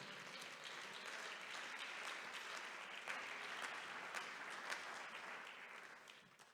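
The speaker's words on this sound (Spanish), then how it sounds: "Denle ese fuerte aplauso al Señor" Sustained applause from a church congregation, a dense steady wash of many hands clapping with scattered louder claps, filling the room evenly before easing off near the end.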